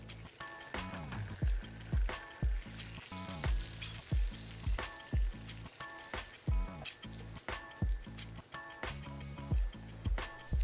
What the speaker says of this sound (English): We're going to fry the kimchi in a little bit of oil